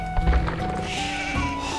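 A sheep in Age of Empires II HD Edition gives one clear, wavering bleat. It rises from a bit of game noise and carries on loud for about two seconds, with no talk over it.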